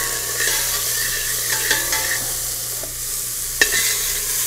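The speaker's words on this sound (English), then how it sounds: "saute that so that we sweat the onion" Finely minced onion sweats in olive oil for risotto in a restaurant kitchen, producing a loud, even, continuous sizzle with a few light stirring clicks near the end.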